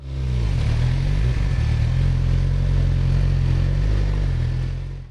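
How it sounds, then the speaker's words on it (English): A motorcycle with a newly fitted exhaust runs loud and close, holding a steady, deep rumble with a slight rise in pitch early on. The engine fills the whole stretch with no talking. "gotta turn the bike on. New exhaust, baby."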